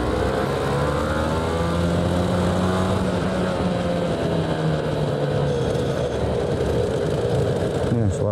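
A rare Yamaha TZR 250 two-stroke motorcycle engine runs steadily and close, a continuous buzzing drone with shifting tone as it rides along, with a voice talking over it at times.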